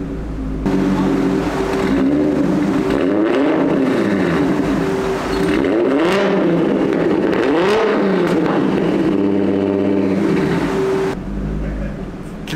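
Turbocharged VW Golf 4 R32 with its exhaust flap open revs hard on a dyno, the engine climbing and falling in several loud sweeps with bursts of crackle, no voices over it.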